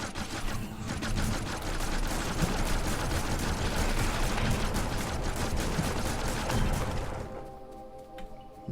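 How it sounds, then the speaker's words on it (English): A combat shotgun fires repeatedly in Factorio. Dense overlapping blasts and impacts blend into a continuous loud rumble, then cut off abruptly and leave a faint mechanical hum. "I wanted to do the combat shotgun"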